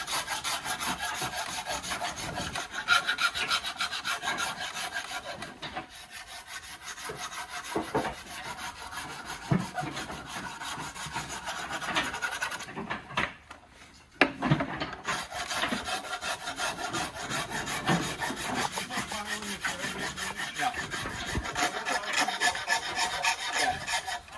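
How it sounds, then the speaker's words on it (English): A Shinto rasp's smooth side working over a wooden axe handle, a close, steady rhythmic scraping and rasping with short pauses between strokes. "I'm just going to go in and clean it up with the smooth side"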